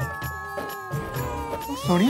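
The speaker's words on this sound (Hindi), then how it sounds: "हाँ छोटा बच्चा रो रहा है।" A small baby cries in thin, wavering wails that rise sharply near the end, mixed in with adult voices talking over it at close range.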